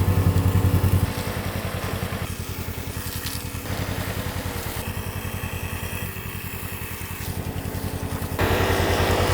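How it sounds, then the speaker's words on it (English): A side-by-side utility vehicle's engine runs steadily up close, a loud pulsing drone that shifts pitch as it is moved and repositioned near a pond and driveway. "let me reposition the side-by-side"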